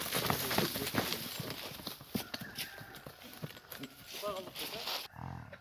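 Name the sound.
horse moving, hooves clip-clopping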